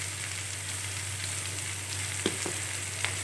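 Raw plantain pieces frying with sautéed onions in a pan for a plantain stir-fry, a steady close sizzle with a few brief clinks from a utensil toward the end, no talking.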